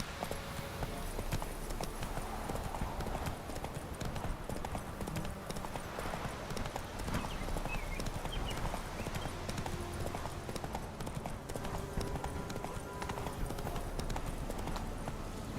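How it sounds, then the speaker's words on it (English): Roach the horse's hooves clip-clop at a steady gallop in The Witcher 3: Wild Hunt, a continuous rapid rhythm over dense outdoor ambience with an occasional faint whinny. "Not so fast, Roach."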